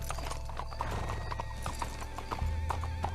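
Horse hooves clip-clop steadily with a whinny in Red Dead Redemption 2, a rhythmic gallop of hoofbeats over a constant low game rumble, fairly near and moderately loud.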